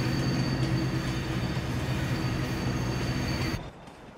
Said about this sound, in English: the train does not reappear nearly as fast as it does right here